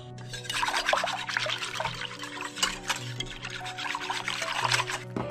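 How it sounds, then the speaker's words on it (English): Cornstarch, two tablespoons of it, whisked into liquid for a butternut squash and potato soup: a steady wet swishing and scraping churns continuously at close range, with small liquid splashes and no talk. "We're gonna whisk that together"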